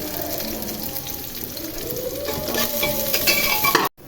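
Sliced onions sizzle steadily in hot ghee, a close, continuous frying hiss with a stirring scrape now and then, growing slightly louder toward the end before stopping abruptly.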